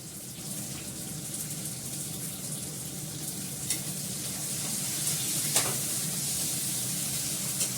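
Eggplant slices with a little salt frying in hot oil, a steady close sizzle running throughout with occasional small pops and faint stirring.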